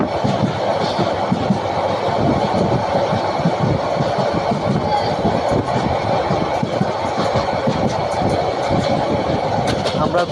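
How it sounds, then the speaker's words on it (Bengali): Meghna Express passenger train on the Cox's Bazar to Chittagong line passing close by, a loud steady rumble of wheels and carriages with faint clickety-clack running throughout, no talk. "মেঘনা এক্সপ্রেস, মেঘনা এক্সপ্রেস ক্রস করতেছি আমরা।"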